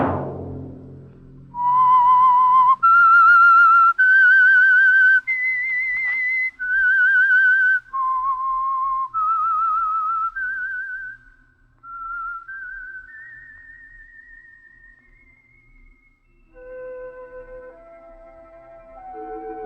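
A clear, solo whistled melody, the theme of the radio mystery drama The Whistler, steady and bright, moving through a string of held and sliding notes, ending with a softer, lower phrase.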